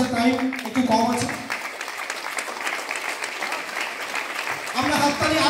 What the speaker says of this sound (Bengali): আমরা হাততালি আরো একটু ভালোভাবে জানাবো